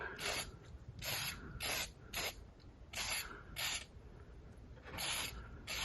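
Repeated short hissing bursts of an aerosol battery terminal protector spray, close up, coming in an irregular rhythm with brief pauses between sprays.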